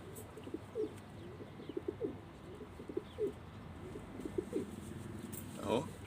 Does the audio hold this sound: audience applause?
no